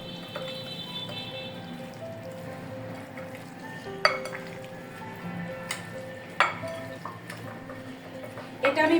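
Beef is mixed by hand with salt and spices in a pot, giving soft wet squelching and stirring with a few light knocks against the pot, close and fairly quiet under a low background hum while a voice talks.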